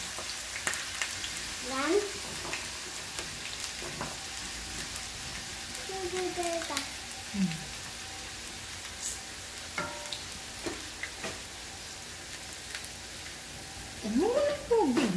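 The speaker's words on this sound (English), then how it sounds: "Ilagay na namin itong sliced na patatas." Sliced potatoes fry in hot oil, a continuous loud sizzle with crackling bursts and occasional stirring clatter, while a person talks briefly over it.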